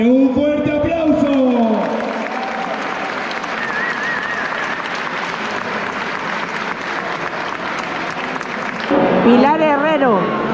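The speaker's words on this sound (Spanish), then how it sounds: "Dándole la medalla a su madre, ¡un fuerte aplauso!" Loud, sustained applause fills a hall at a Spanish powerlifting championship medal ceremony, with an amplified announcer talking over the clapping at the start and again near the end.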